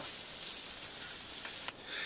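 Chicken and bacon sizzle steadily in a frying pan for a stir fry, a constant close hiss with a brief dip near the end and no talking.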